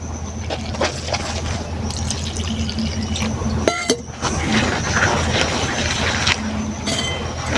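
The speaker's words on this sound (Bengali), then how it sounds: "এবার এই ময়দার মধ্যে অল্প অল্প করে জলটা দিয়ে দিচ্ছি" Water added little by little to flour mixed with cumin powder for a thin potato paratha batter: close splashy dribbles and drips, with light clinks of a bowl or utensil and a brief clatter partway through.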